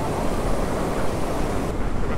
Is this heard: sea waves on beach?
yes